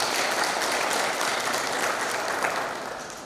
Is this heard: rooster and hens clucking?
no